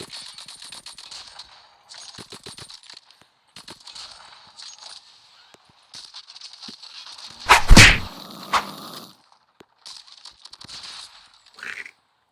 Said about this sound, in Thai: ปืนตะปู